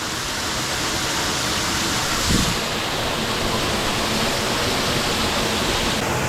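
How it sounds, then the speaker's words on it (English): Leaning Log Falls on Adkins Creek in Arkansas pours in a steady, loud broadband roar heard from close behind the falling water, with one brief thud partway through. "I am behind the waterfall"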